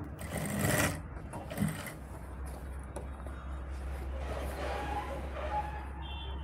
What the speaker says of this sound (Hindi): और इसको ऐसे रखते हुए किनारे की सिलाई लगाएंगे।